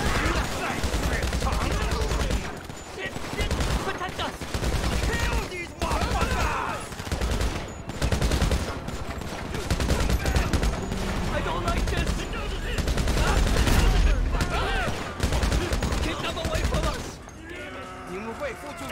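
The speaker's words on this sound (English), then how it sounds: "Shoot the bastards!" Rapid gunfire from a GTA Online casino mission shootout, with bursts of automatic fire and repeated shots running almost continuously and loudly, while voices shout over the battle.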